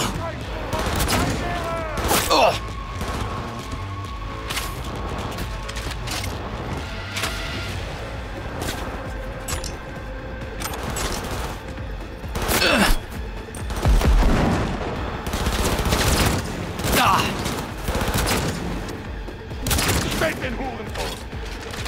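Gunfire in Cyberpunk 2077 Phantom Liberty comes as scattered shots and short bursts over a rumbling game backdrop, with a few louder blasts in the middle.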